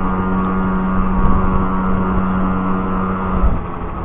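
Stock Ride Race 50 GT scooter riding on the road, a small two-stroke engine droning at a steady cruising pitch with wind noise and a slight swell near the end.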